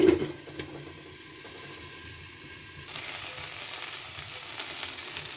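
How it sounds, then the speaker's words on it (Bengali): Okra masala frying under a lid in a pan, giving a steady, close sizzle that runs throughout, with no talking. "ভালো করে ঢেকে ঢেকে ভাজবো"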